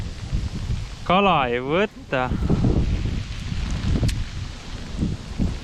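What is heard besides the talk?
strong wind with hail while fishing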